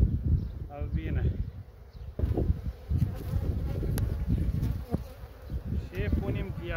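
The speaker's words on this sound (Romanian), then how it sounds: "albine." Honey bees buzz steadily at an open hive being fed sugar syrup, a close, continuous drone with short bursts of louder buzzing and someone talking over it at times.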